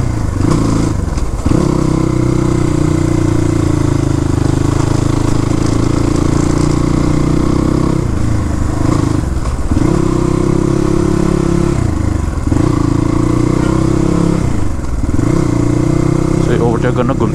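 A Crossfire RM250 motorcycle rides on the roads around Sarangkot, Pokhara, its steady mid-pitched engine drone running loud and continuous, dipping briefly every couple of seconds as the throttle eases, with a voice talking over it.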